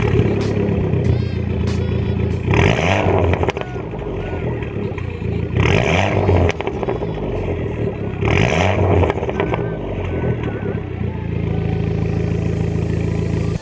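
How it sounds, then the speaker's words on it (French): Lancia car engine with a Katasport full exhaust running through to the tailpipes: a steady, loud, close idle rumble broken by three or four sharp revs that rise and fall back. "On va vous présenter le bruit de la voiture."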